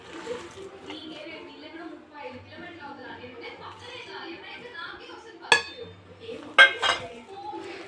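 Mutton kaima vada mixture being worked together in a bowl, soft mixing noise with light clinks of utensil against the bowl and two sharper knocks near the end, under quiet talk.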